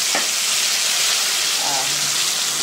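Ground masala spice paste hits a hot pan in a home kitchen for a vegetarian curry, giving a loud, steady sizzle and hiss close up, with a light scrape of stirring early on.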